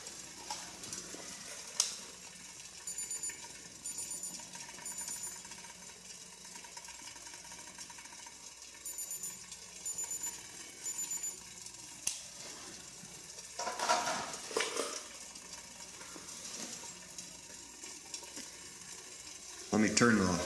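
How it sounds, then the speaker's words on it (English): Water boils steadily in a pot over a simple, cheap homemade alcohol stove, a continuous close sizzling hiss with a few brief metallic clinks. "Still boiling."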